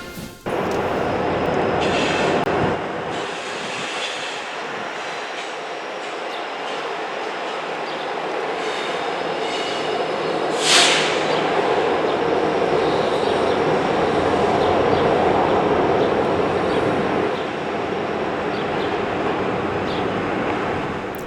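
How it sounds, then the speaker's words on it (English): A heavy northbound intermodal freight train rumbles steadily past at close range as it pulls into a rail yard, a continuous loud roar of rolling cars with occasional metallic squeals and clanks. "we see a northbound intermodal train pulling into Watkins Yard"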